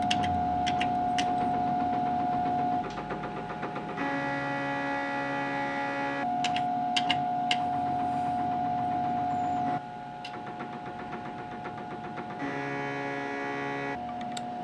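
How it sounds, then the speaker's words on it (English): The stepper motor driving the north-south compound motion of a Marron Carrel 1400 rostrum camera whirs with a steady tonal hum, switching between speeds in distinct segments, while sharp mechanical ticks and clicks punctuate the run. "Here is the stepper motor for what was referred to as the north-south motions of the compound."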